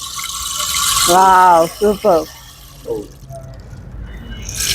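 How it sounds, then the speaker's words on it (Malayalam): A bamboo rain stick, or rain maker, is tipped to give a rushing, rain-like hiss. The hiss rises at the start and again at the end, while a person speaks briefly in between. "റെയിൻ മേക്കർ, മഴമൂളി എന്ന് പറയും. മഴ പെയ്യുന്ന സൗണ്ട്."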